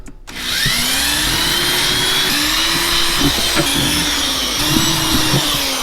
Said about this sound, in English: Let's go ahead and drill all these holes so I'm not making a mess in the boat.